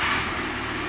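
A 1998 Fiat Seicento Sporting Abarth engine idling, a steady close mechanical hum with a fine ticking texture, brief and constant.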